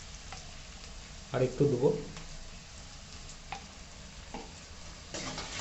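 Turmeric frying in oil with onion, tomato, ginger and garlic for a chicken dish, a faint sizzle with brief bursts of stirring, and a short spoken remark over it.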